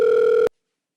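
A telephone line tone for a live call-in show, a steady electronic two-pitch hum heard alone, loud and close, cutting off abruptly into silence after half a second.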